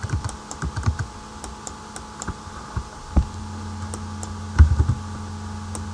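Data being typed on a computer keyboard, a close run of irregular clicking keystrokes with short pauses and a low steady hum beneath.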